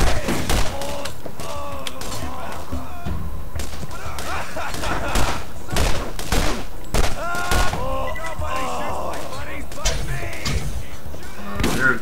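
Pistol gunfire in the video game Borderlands: a dense run of sharp shots and thuds over a steady game soundtrack, loud and continuous across the scene.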